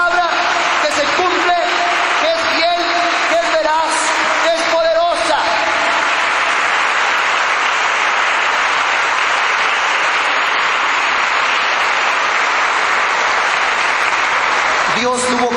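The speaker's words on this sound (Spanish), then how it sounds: "Demos un aplauso a Dios, a su palabra, que se cumpla." A church congregation breaks into loud, sustained applause during a Catholic Mass, with some voices and whoops over the clapping at first, then a steady wash of clapping that ends abruptly near the close.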